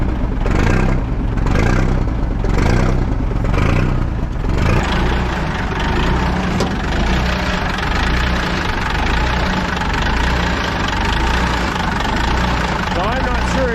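A 1980 Autocar semi truck's engine, with its exhaust in need of repair, idles in a steady low rumble with a few rhythmic pulses early on, while a voice talks over it.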